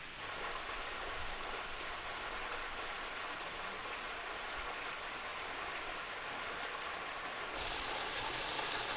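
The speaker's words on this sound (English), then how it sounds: "Listening to the sound of the water running down, I love it." Steady rush of a waterfall at Yinhe Cave near Taipei, a continuous broadband wash of falling water heard fairly softly and evenly throughout, with no talking.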